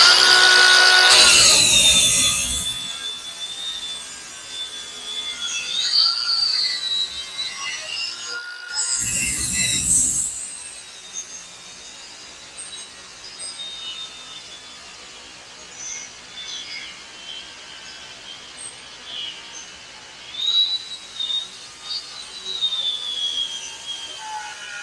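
Power tool cutting into the rear wheel arch sheet metal of a 1982 VW Vanagon, with two short loud bursts early on followed by quieter intermittent grinding and scraping.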